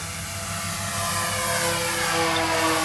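An HC Hobby Mosquito twin-engine RC model plane flies overhead with a steady high electric whine that rises slightly as it passes, alone over faint outdoor air.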